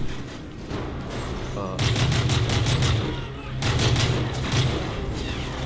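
Bursts of rapid automatic gunfire from the game Call of Duty: Modern Warfare 3, two sustained volleys of loud clattering shots with booming low thuds, separated by a brief lull.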